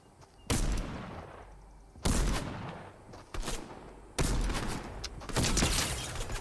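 Revolver shots fired at a bot in the video game Fortnite: four loud, separate gunshots spaced a second or two apart, each a sharp crack with a ringing tail.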